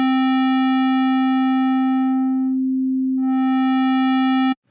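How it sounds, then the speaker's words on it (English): A synthesizer tone in NI Massive holds a steady pitch while its waveform morphs from a bright, buzzy square wave to a pure sine and back toward square, then cuts off abruptly. "as you fade it off to the left, it becomes a sine wave"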